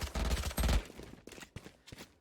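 Bulldog rifle gunfire in the game Valorant: a quick burst of close, punchy shots followed by a few spaced single reports.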